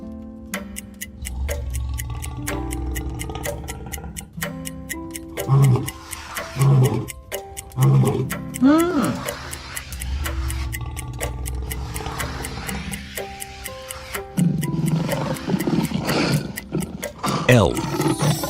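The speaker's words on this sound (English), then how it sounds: "Lion." A lion roars several times over a ticking clock and a melodic children's trivia backing, with short deep bursts standing out among the music.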